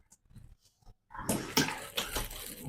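Leftover water from soaked wheat draining through a cloth laid in a mesh strainer, a few faint drips first, then a steady louder splashing pour that continues to the end.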